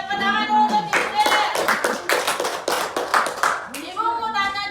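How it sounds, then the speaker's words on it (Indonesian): A classroom of students claps together in quick, uneven bursts, with voices talking at the start and end around the clapping. "tepuk tangan dulu untuk Cinder"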